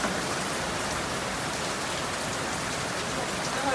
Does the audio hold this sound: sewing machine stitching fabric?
no